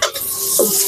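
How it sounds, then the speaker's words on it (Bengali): Chopped garlic hits hot mustard oil in a pan, giving a loud, steady close sizzle with a brief stirring scrape partway through. "দিয়ে দিলাম রসুন কুচি।"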